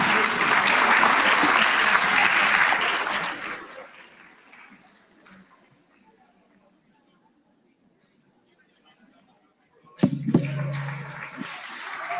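Applause at a student representative council induction event, a dense crowd clapping loudly for a few seconds before fading into quiet room noise, then a voice speaking near the end.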